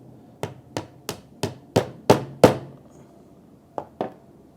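A hammer taps a plastic wall plug into a freshly drilled hole, giving seven sharp close knocks that grow louder, then a short pause and two more taps.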